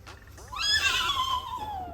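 A voice imitates a donkey, a single loud braying call that rises sharply and then slides down, heard close and alone.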